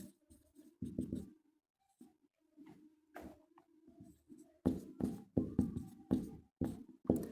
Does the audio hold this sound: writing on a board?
yes